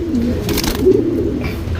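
A pair of Cheeni pigeons coos steadily and close by, with soft repeated throaty calls and no talking.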